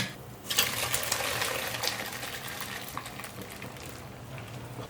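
Boiled baby corn drained from hot water in a kitchen, a steady rushing pour of water through a strainer that starts after a brief pause and continues for several seconds, close and fairly loud.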